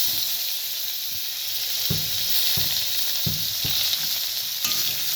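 Chopped onions frying in oil, a loud constant hiss and sizzle with a few soft thuds from stirring at regular intervals, no one talking.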